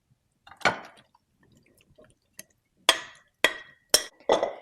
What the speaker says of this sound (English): we're going to put it in our baking dish. Scoop the baking dish